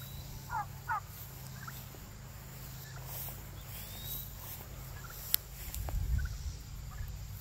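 A farm turkey gobbles in short bursts near the start, rattling and moderately close, amid quiet outdoor ambience with a low hum and a few faint bird calls and knocks.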